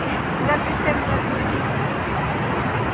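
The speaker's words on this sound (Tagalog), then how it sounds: "Traffic." Steady road traffic noise along a busy street during the evening commute, a constant near wash of passing vehicles with faint people talking in the background.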